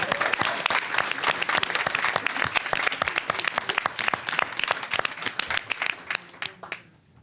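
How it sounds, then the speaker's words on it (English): An audience at a mayoral press conference breaks into sustained, dense clapping that stays loud and even before tapering off quickly at the end. "Let's give him another round of applause."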